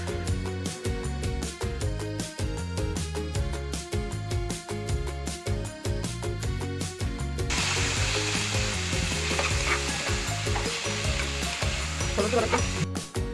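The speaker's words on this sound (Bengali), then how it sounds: "আপনারা দেখতে পাচ্ছেন ভাজা হচ্ছে" Onion, green chilli and garlic frying in oil give a steady, loud sizzle with stirring scrapes throughout, layered under continuous rhythmic background music; no one speaks.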